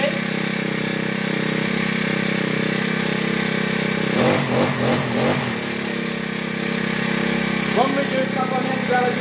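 A Toyama TBC40 four-stroke brush cutter engine runs steadily, then its throttle is opened for a few quick revving surges before it settles back to a constant drone, with someone talking over it.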